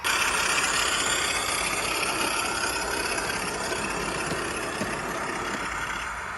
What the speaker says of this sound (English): she hears a discordant growling sound